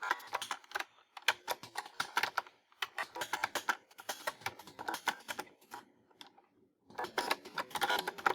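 Close, brisk typing on a computer keyboard, bursts of rapid key clicks broken by short pauses, with no voices.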